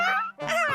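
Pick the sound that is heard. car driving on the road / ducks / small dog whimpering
small dog whimpering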